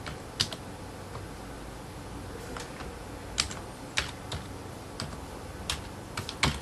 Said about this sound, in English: I type in my first personal name, my last name, and my email address.